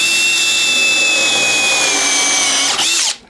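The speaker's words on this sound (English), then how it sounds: "let's take a look and see how well it runs a countersink" A brushless cordless 1/2-inch drill spins a countersink bit at high speed, a loud steady high-pitched whine throughout that dips briefly near the end before stopping abruptly, with no talk.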